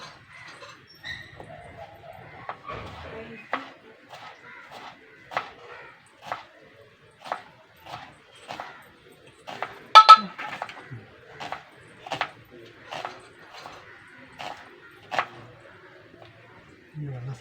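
Chicken pieces being cut on a board in a home kitchen, a steady series of sharp knocks and chops about every half second, with a person talking softly over them.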